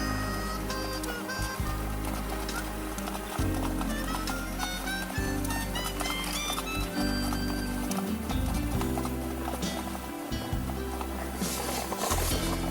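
Icelandic horses move at the smooth tölt, with rapid, even hoofbeats clip-clopping in a steady four-beat rhythm, close and continuous with some background noise.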